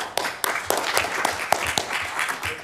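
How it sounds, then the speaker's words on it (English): Applause at a city council meeting: scattered, uneven clapping from a modest group in a chamber, individual sharp claps standing out over a thin background, short and fairly close. "Big round of applause."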